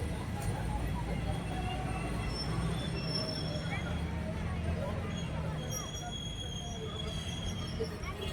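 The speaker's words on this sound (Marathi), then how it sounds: "खूप मोठी ट्रेन आहे गाईज," A long train rolls past continuously, a steady rumble with faint wheel squeals throughout, heard from nearby at moderate level with voices faintly mixed in.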